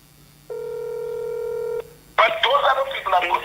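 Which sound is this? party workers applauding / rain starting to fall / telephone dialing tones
telephone dialing tones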